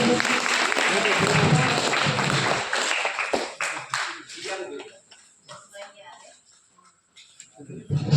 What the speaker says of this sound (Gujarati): તાળીઓનો ગણગણાટથી બાળકોને વધાવીશું